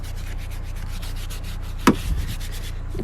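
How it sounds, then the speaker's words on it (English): A brush scrubs a stain on car upholstery in quick, even back-and-forth strokes, close and moderately loud, with one brief knock near the end. "it's going to get a little kind of a scrub in there, kind of get that stuff in there"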